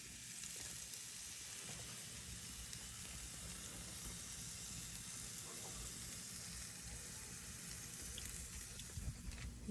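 Sausages sizzling and frying over a grill fire, a steady dense crackle that runs the whole time at an even level, with faint background voices now and then.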